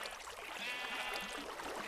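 A faint sheep bleat in Minecraft rises over a soft trickling creek in a fairycore village, short and alone with no talk.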